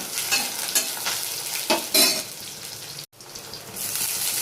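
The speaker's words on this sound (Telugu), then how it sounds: "ఉల్లిపాయలు వేసాను ఫస్ట్, తర్వాత తిరుగుమాత గింజలు అవన్నీ వేసాను. ఇవి ఫ్రై అవుతుంది." Onions and seasoning seeds frying in oil for a drumstick and tomato curry, a bright crackling sizzle with spoon stirring and scraping, close and steady.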